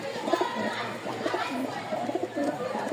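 Several pigeons kept for sale, among them Lotan, Girbaz and red Gorra breeds, coo in soft, throaty bursts at close range. The calls repeat throughout over a busy background with faint voices.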